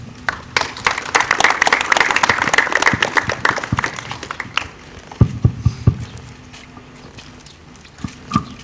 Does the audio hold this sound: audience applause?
yes